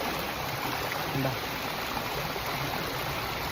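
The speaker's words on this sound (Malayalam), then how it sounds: "ആ സൗണ്ട് കേട്ടോ, വെള്ളം ഒഴുകുന്ന സൗണ്ട്." A stream flows through a forest in Munnar, a steady, fairly loud rushing of water heard up close, with a faint voice briefly in the background.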